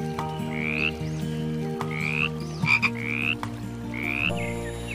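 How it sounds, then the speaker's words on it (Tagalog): A frog croaks about four times at a slow, regular pace, each call a clear rising chirp-like croak, heard up close over a sustained musical backing. "Maya-maya pa ay dumating si Apo Luning, ang pinakamatandang palaka sa kanilang lahi"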